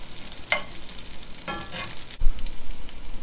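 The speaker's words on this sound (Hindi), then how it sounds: "इस तरह फ्राई करते जाएंगे। एक साइड से हमारे कबाब जो पक चुके हैं, दूसरी साइड से हम टर्न कर लेंगे।" Mixed vegetable and potato tikki kebabs fry in a pan with short crackling bursts of sizzle, then a soft knock as a patty is turned over, and a quieter hiss follows.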